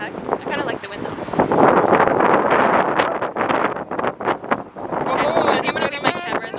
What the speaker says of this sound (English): It's actually windy right now.